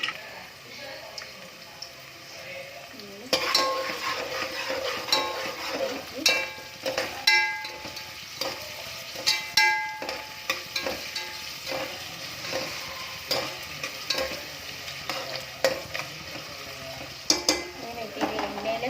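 Three onions and four tomatoes frying in hot oil for spinach and fenugreek pulao, a continuous close sizzle broken by frequent clinks and scrapes of a spoon against the pan, with talk occasionally over it.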